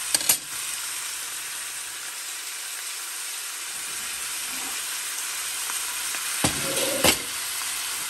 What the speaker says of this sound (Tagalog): Igisa natin ito hanggang maalis yung pagka-pink niya.